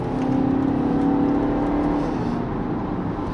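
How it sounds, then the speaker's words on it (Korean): A 2016 BMW X1 xDrive 20d diesel in sport mode accelerates steadily under kickdown, its engine droning with a rising whine heard from inside the cabin, loud and continuous. "킥다운 버튼을 눌러서 가속을 이어가면 꾸준하게 속도를 높입니다"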